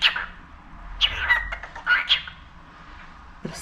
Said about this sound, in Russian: Попугайчик. Мой любимый.